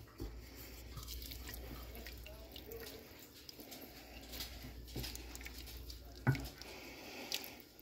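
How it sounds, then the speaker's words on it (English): Ketchup and broth seasoning are stirred in a cooking pot, giving a faint, wet sloshing and dripping with a few soft knocks against the pot, quiet and continuous. "I'm going to give this a really good stir."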